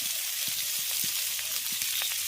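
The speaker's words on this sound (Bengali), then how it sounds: "পেঁয়াজের কলিগুলো কিন্তু খুব সুন্দরভাবে ভাজা হয়ে গেছে" Onion stalks fry in a pan with a steady, close sizzling hiss, punctuated by faint soft pops and light stirring taps throughout, with no talking.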